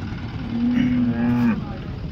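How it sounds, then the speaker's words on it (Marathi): A single cow moo at the Modnimb cattle market, close and loud, holds a steady low tone for about a second before cutting off. "इकडे गाय आहे."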